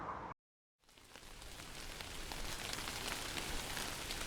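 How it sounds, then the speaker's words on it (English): Steady rain pours down in Singapore, a dense, even hiss of drops striking surfaces that builds after a brief silent gap and keeps going without any voices. "it started raining as soon as we got there, and it's still raining"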